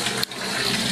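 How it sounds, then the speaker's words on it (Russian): Water rushing from a hose into a container while soaking oyster mushroom grow blocks, a steady loud hiss that holds throughout apart from one brief dip early on. "когда вы заполняете емкость водой"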